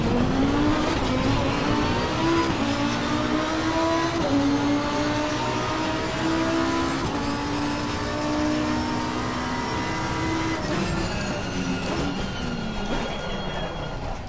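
A race car engine in Assetto Corsa Competizione on PS4 drones steadily and loudly for the whole stretch, with continuous revving that rises and falls through the gears and no talk over it.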